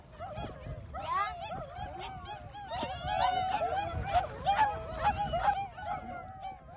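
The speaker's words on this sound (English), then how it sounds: "it's not clear how these 7 puppies, yes, those are puppies, yelping" Seven young puppies yelp and whimper together in a high-pitched, continuous chorus, found stranded on an uninhabited island in Manitoba, with outdoor rumble underneath and no speech.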